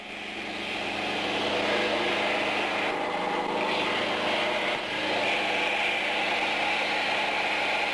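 A light aircraft engine cruises in level flight, a steady, loud droning hum with broadband wind-like hiss that holds constant throughout, with only slight dips in intensity.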